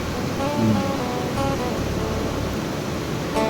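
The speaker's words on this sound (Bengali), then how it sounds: "কাল রাত থেকে এত বৃষ্টি হচ্ছে, ফ্লো অনেক, মানে সিরিয়াসলি একটা ঝর্ণার থেকে নদী হয়ে গেছে" Heavy waterfall in a North Bengal valley, swollen by a night of rain until it runs like a river, makes a loud, steady, unbroken roar that fills the whole stretch without pause.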